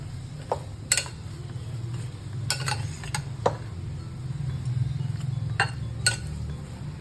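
A spoon clinks against a pan while a spiced soybean pulao mixture is stirred, giving scattered sharp metallic taps over a steady low cooking hum.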